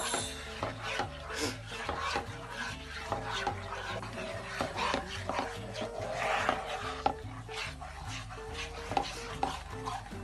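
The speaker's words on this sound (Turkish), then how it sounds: "Hemen bunu koyuyoruz ve şöyle şöyle şöyle karıştırıyoruz." Wooden spoon rubbing and scraping steadily through scrambled eggs with butter in a pan, a repeated close-up stirring rasp with light knocks, and background music running underneath throughout.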